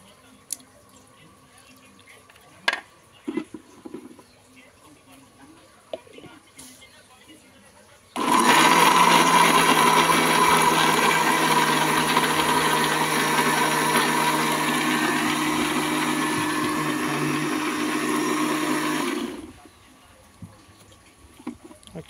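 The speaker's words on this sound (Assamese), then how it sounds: "এয়া সিজাই লোৱা ভীমকল এতিয়া মিক্সাৰত দি থকা হৈছে।" Mixer grinder blending boiled bhimkol bananas into a paste, a loud steady whirring roar that starts abruptly, runs for about eleven seconds and then cuts off, with faint background noise before and after.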